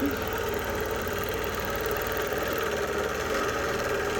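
A Bernina Q24 longarm quilting machine stitches steadily with a continuous, even mechanical whir and fine rapid pulsing, fairly quiet and close, with no voices over it.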